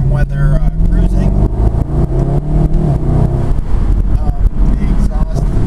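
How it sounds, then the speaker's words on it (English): A 2012 Mercedes SLS AMG exhaust rumbles steadily with a deep engine drone while driving on the road, up close and loud, as a voice talks over it throughout. "The exhaust sounds amazing"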